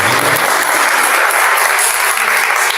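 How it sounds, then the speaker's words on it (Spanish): Loud, dense applause from an audience at a world poetry festival, a continuous roar of many hands clapping close and steady throughout. "Vamos a brindar un fuerte aplauso"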